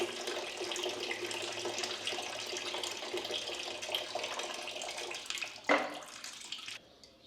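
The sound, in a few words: water running in sink, washing hands, from a video game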